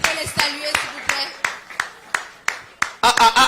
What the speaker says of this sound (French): I thought you would be clapping more than this.